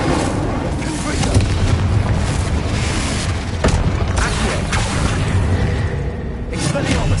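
Confringo fire-blast spell in the video game Hogwarts Legacy, a run of rumbling booms and impacts amid dense battle noise, loud and close, with a voice calling out over it.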